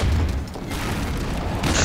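Booming cannon fire from the Loose Cannon in Team Fortress 2, a loud, continuous low-end blast with heavy rumble lasting throughout, no talking.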